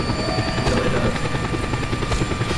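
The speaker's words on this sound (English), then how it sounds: "There's a chopper here. I'll grab that." A helicopter in the video game Just Cause 2 thrums loudly and continuously with a fast rotor beat up close, while a player briefly talks over it.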